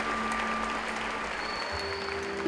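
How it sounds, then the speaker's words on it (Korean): An audience at a Christmas cantata, part of the 2020 IYF World Camp in Paraguay, gives sustained, thick applause that stays at a steady level, with faint musical tones held beneath the clapping. "관객들은 뜨거운 박수갈채를 보냈다"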